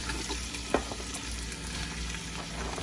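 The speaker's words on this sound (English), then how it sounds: "we're going to start adding our veggies to our oil." Chopped Cajun trinity vegetables fry in oil in a pot, a steady dense sizzle with one sharp knock early on, no talking.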